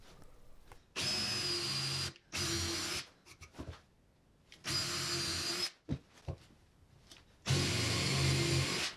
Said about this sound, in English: I can take my drill with a 5/8 inch Forstner bit and start making all the holes